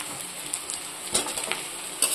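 Chopped onion and potatoes frying in hot oil, a steady soft hiss with brief crackles and occasional stirring scrapes, close and even throughout.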